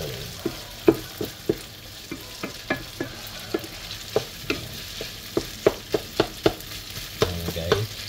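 A ladle scrapes and knocks rhythmically through ground meat frying in a pan, about twenty sharp clinks over a constant sizzle, steady and close.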